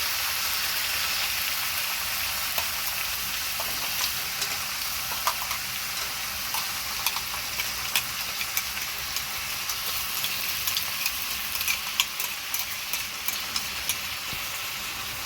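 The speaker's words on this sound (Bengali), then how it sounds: "আদা রসুন বাটা দিয়ে আমি ভালো করে একটু কষে নেব।" Pieces of country chicken sizzle with ginger garlic paste in a pan over lowered heat, a steady soft frying hiss with scattered small crackles and pops throughout, no voices.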